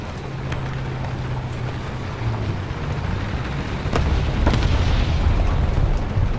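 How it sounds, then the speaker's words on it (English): An AMX-13 M24 light tank in War Thunder fires a smoke grenade: a few short muffled pops and a brief burst stand out over a constant low engine rumble that swells slightly toward the end. "I'll drop a smoke grenade to distract them."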